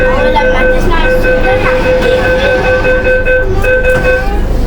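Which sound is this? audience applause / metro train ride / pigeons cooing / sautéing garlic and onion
metro train ride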